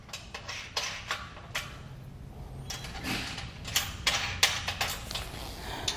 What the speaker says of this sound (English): And then hand tighten our lock nuts.